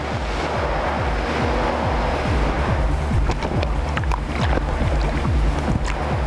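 Loud, constant rushing of churning water and machine-made wind and waves in a sea rescue training pool, with rhythmic low thumping and scattered splashes as rescuers drop into the water.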